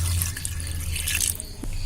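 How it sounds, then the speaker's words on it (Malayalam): Water pours into a pressure cooker holding tapioca pieces, a close, steady splashing trickle that runs without a break and ends with a few small drips. "ഇതിന് വേവാൻ ആവശ്യമായ വെള്ളം കൂടി ഒഴിച്ചു കൊടുക്കാം"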